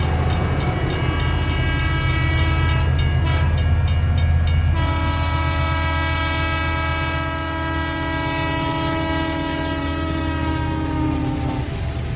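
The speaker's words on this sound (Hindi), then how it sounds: "ये ट्रेन मुझे शहर पहुंचा देगी।" A train sound effect from a radio detective drama: a loud, steady rumble with a sustained horn blast over the rolling clatter of the carriages, continuing unbroken with no voices.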